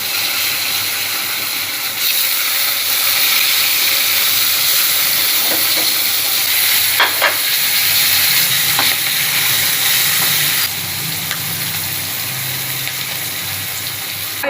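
Fish pieces fry in hot oil with nigella seeds and dried red chillies, a loud, steady close-up sizzle with occasional pops and crackles, continuing without pause.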